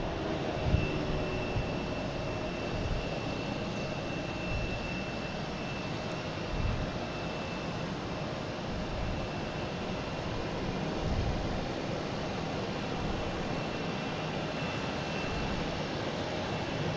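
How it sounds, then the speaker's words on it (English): An Embraer E-175 jet airliner on its takeoff run at Boston Logan, a steady broadband engine roar that holds for the whole stretch with a faint turbine whine and no talk. "All right, next taking off is a Delta heading to Jacksonville."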